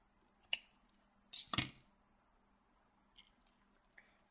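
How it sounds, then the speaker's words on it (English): A few sharp, crisp scissor snips through rubber loom bands, spaced apart, in an otherwise quiet room with no talking. "Then you're just going to take your scissors and cut these."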